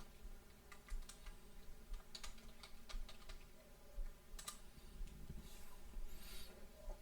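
Quiet, close keystrokes on a computer keyboard tap in an irregular rhythm, with clusters of clicks over faint room hum and no talk.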